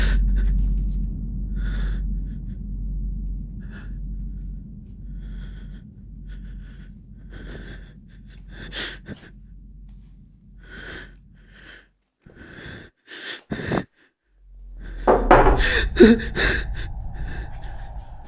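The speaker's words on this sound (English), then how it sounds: "The video begins with the sound of heavy breathing, the man clearly unsettled" A man breathes heavily, unsettled, while filming a see-through section of a wall inside a house: close, repeated gasping breaths, with a few sharp knocks and a burst of louder noise near the end.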